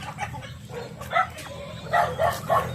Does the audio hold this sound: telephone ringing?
no